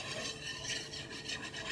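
Milk being whisked into a breakfast casserole mixture, a soft continuous rubbing and scraping of a whisk in a bowl, quiet and close.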